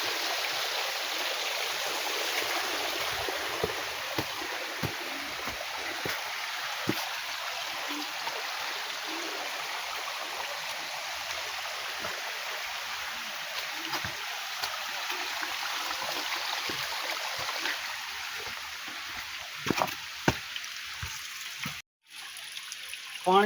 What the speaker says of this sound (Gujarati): તમે જોઈ શકો છો પાણી કેટલું આવી રહ્યું છે ઉપરથી